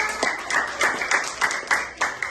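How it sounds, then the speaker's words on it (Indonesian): Steady group clapping, a room full of hands applauding together at a lively even pace for a couple of seconds, in a classroom. "Beri tepuk tangan untuk kelompok 3."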